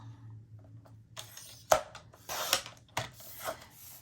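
Paper for a boho baby album is cut with short rasping strokes: a faint rub at first, then a sharp snap and several scraping cuts at close range, with no voices.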